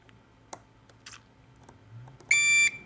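A continuity tester gives one short, loud steady beep near the end while probes touch points on a Samsung fast charger circuit board, following a few faint clicks and taps.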